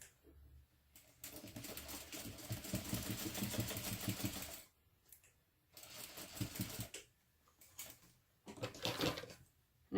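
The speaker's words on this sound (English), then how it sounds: "I like to sew from the first side so that I can just sew over my existing stitching" Home sewing machine stitching a seam on a mini backpack, running in bursts of rapid mechanical whirring and clatter separated by short pauses, close and moderately loud.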